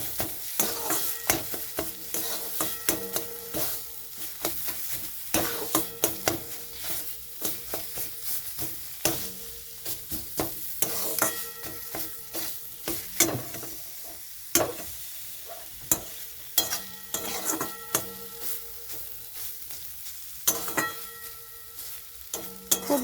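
Beetroot paste mixed with raw mustard oil stirred with a spoon, giving steady scraping and tapping strokes in an irregular rhythm, close and fairly quiet, running on without a pause.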